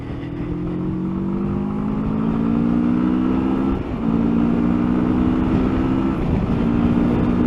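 A 2022 CF Moto MT650 motorcycle accelerates in third gear, its engine note rising steadily as the throttle rolls on, with a brief dip near the middle before it keeps pulling loud and close.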